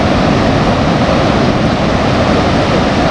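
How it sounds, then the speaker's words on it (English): Broadband rushing surf of ocean waves on a beach at low tide in Dapoli, a steady loud wash of breaking water throughout with no voices. "You can see over here beautiful waves and their sound."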